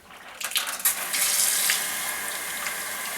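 Tap water runs from a kitchen faucet, starting with a few splashy bursts before settling into a steady, close hissing stream.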